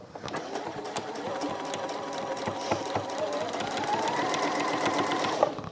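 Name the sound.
sewing machine stitching around circular base of caddy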